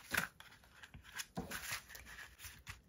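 Scissors cut twine during a paper gift-pouch craft, making a few quiet, close snips and rustles in an otherwise still room.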